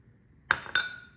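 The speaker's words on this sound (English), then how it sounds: "I'm gonna put 4 eggs into the blender" Two eggs cracked against a hard edge and dropped into a blender jar, making two sharp, close clinks about a quarter second apart in a quiet kitchen.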